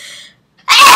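A single loud, close sneeze bursts out suddenly after a brief near-silent pause, standing alone without any talk.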